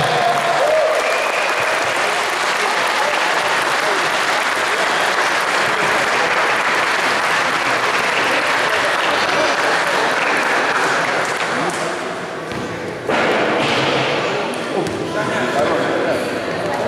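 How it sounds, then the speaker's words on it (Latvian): An audience at a football tournament awards ceremony gives sustained, dense applause for the top goal scorer, loud and continuous with a brief dip near the end before resuming. "Aplausi!"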